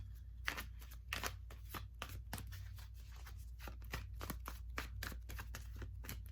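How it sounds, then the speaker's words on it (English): Tarot cards being shuffled by hand, a run of quick riffling snaps and soft slaps close up, over a low steady hum. "I shuffle a couple more times."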